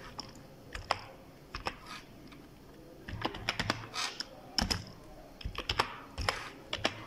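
Typing on a computer keyboard while working in graphic design software for box packaging, with quick irregular bursts of clicking keystrokes, close and quiet, growing busier toward the end.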